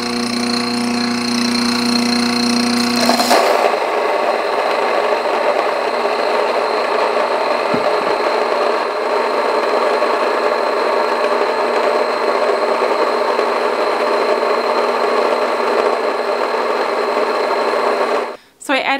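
Electric stone grain mill grinding wheat berries, a loud continuous buzzing drone that starts with a change in pitch and runs steadily before cutting off abruptly at the end.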